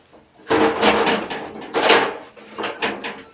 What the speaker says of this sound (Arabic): يفتح الباب.